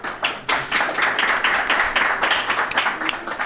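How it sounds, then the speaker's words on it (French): French tabletop role-playing stream audience clapping at moderate volume, steady overlapping claps with distinct individual hits throughout, no talking. "Et on peut applaudir, s'il vous plaît"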